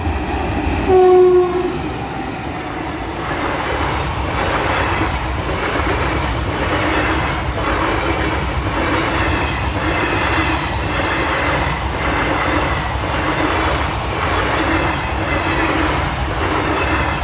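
A passenger express train running from Sitapur to Gonda rumbles loudly and close by, its wheels clacking in a steady rhythm, with a short horn blast near the start.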